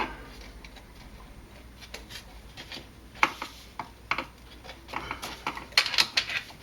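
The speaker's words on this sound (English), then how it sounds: "now just using a ball Allen key with a ball end, I can remove this screws." Ball-end Allen key turning screws out of the intake manifold on a Mercedes-Benz W202 C280, close, faint metallic ticks and scraping clicks in irregular bursts, growing busier toward the end.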